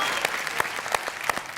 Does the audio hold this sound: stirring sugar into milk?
no